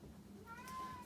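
A pet cat meows in the background of an art studio, a single drawn-out, faint mew over low room noise and soft murmuring.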